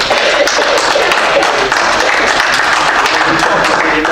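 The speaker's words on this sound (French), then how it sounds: "On peut applaudir." Attendees at a town council meeting break into loud, sustained applause, a dense continuous patter of many hands with faint voices mixed underneath.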